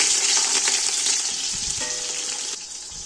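Onions sizzle steadily in hot ghee, a dense crackling hiss with occasional pops, close and continuous.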